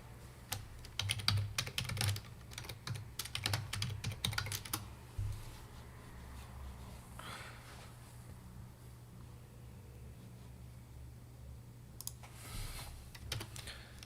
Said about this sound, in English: typing in charge and plug into Google